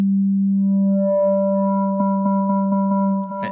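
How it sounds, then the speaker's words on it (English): A pure sine wave tone from a Willow and Oak AB Branches semi-modular synthesizer: one steady sustained pitch with faint upper harmonics, briefly pulsing in a quick rhythmic flutter near the end, loud and alone. "you can blend that sine wave to other"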